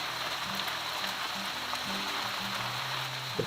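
Steady broadband hiss of rain falling on a Polish army tent during a rainy-day camping cookout, continuous and fairly loud, with faint low tonal murmurs in the background and no speech.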